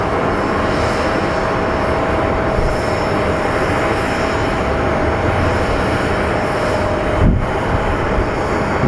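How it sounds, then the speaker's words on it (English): United Airlines Boeing 777 landing at Phoenix Sky Harbor International Airport: a loud, steady jet engine roar that holds for several seconds with a faint high tonal whine, swelling slightly near the end. "Tonight we will be having a Boeing 777 operated by United Airlines coming in."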